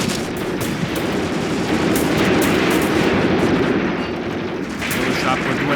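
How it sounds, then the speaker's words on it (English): A gunfight against Germans rages in the Graviteam Tactics war game, loud dense rifle and machine-gun fire rattling continuously, with sustained bursts and no gaps. "He is trapped in a gunfight for sure now with a bunch of Germans."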